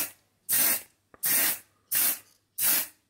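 Paint is sprayed onto an Airfix 1:72 Curtiss Hawk 81-A-2 model plane in four short, evenly spaced hissing bursts, close and loud with quiet gaps between, and no voices.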